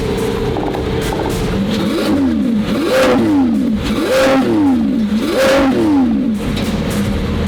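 A 1,000 hp Revuelto supercar engine revs up and down repeatedly, its exhaust roaring loud and close in rising and falling sweeps.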